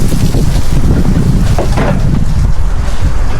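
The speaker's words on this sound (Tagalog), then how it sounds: "Lakas ng hangin ngayon." Strong wind buffets the microphone at an outdoor camping spot, a steady loud low roar with gusty rumble throughout and no voices.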